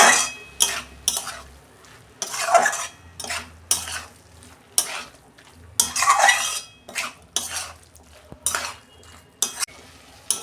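Cabbage and lentils being sautéed in a pan at home, with repeated bursts of spatula scraping and clattering against the pan between quieter gaps, close and fairly loud with no talking.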